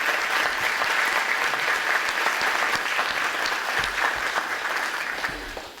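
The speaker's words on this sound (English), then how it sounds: "So please give them another round of applause." A crowd applauds office staff at a school-district recognition ceremony for teachers and school-related employees; full, steady clapping carries on for several seconds before tapering slightly at the end.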